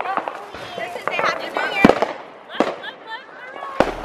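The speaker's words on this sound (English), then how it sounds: "There's fireworks going off everywhere in the neighborhood." Neighborhood fireworks on New Year's Eve crack and bang in sharp, irregular bursts, some close and loud, others farther off, with people talking throughout.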